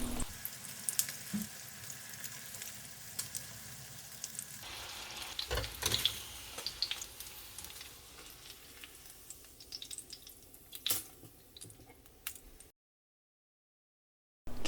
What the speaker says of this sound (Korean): 고기는 자주 뒤집어가면서 겉면이 노릇하게 익혀주세요.